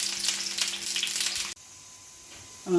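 Fish frying in hot oil with curry leaves, a steady loud sizzle for about a second and a half that drops abruptly to a quieter background, followed by a brief louder burst near the end.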